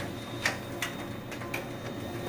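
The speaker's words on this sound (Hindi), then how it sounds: "देखो अभी प्रिंटिंग चल रही है सिंगल साइड" A Canon iR 2870 photocopier prints single-sided pages, giving a faint steady mechanical hum with soft periodic ticks and clicks roughly every third of a second.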